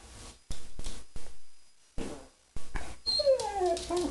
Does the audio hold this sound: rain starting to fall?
no